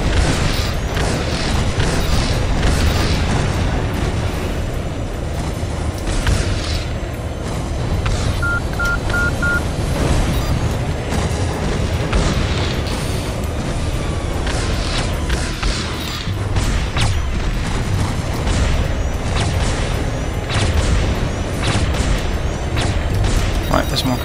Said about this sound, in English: Goodness me, these neutron cannons are powerful.